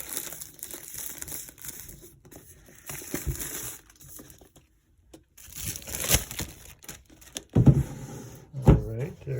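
A plastic cover being peeled off a new MacBook Air box during unboxing, making crinkling and rustling in bursts with louder crackles near the end, with someone talking at times alongside it.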